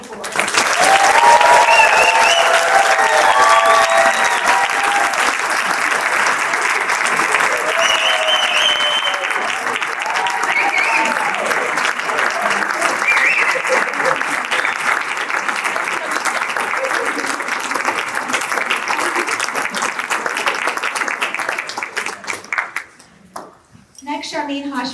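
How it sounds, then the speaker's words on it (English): A large audience at a medical school white coat ceremony gives a sustained round of applause for the graduating class, a dense, loud wash of clapping with scattered cheers and voices underneath, fading out near the end. "Let's have a large round of applause for the class of"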